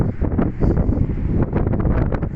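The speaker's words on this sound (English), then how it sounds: "God damn, it's windy." Strong gusting wind on Waitarere Beach, New Zealand, buffets the microphone in a loud, continuous low roar with rustling surges throughout, and no voices.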